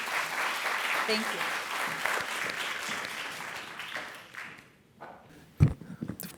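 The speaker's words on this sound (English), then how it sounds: "Another round of applause for Hennessy." Audience applause fills the room for a speaker at an allyship panel event, dense at first then thinning and fading out near the end, followed by a few close taps and a brief spoken thanks.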